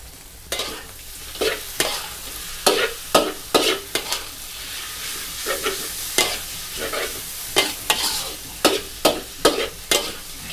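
Pad Thai with shrimp being stir-fried in a pan, a constant sizzle broken by a fast, regular run of loud scraping tosses of the spatula, close by and without talk.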